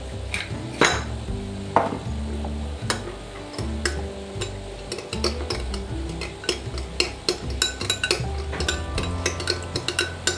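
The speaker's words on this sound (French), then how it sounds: "je vais déjà mélanger la moutarde dans le vinaigre avec le sel" Mustard stirred into vinegar with salt and pepper makes quick, rhythmic metallic clinks and scrapes of a utensil against a bowl, close and steady with no talking.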